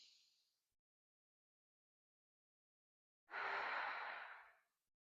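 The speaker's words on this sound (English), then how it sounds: "when I'm breathing in" A single exaggerated inhale, drawn in loudly for about a second and a half after a long quiet pause, with the faint tail of an earlier breath at the start.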